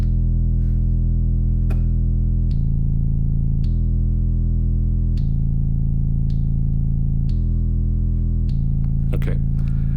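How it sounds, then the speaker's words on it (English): A loud, sustained modular synthesizer bass drone steps between several pitches, each note holding for a second or two, with faint clicks above. "So this is now our bass tone."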